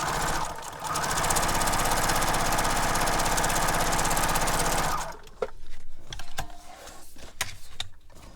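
A sewing machine stitches across a handmade beach journal, a loud steady mechanical whirr for about four seconds, then stopping into scattered clicks and handling noises of paper and fabric.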